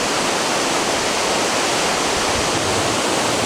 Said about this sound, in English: It's really just a trickle of water.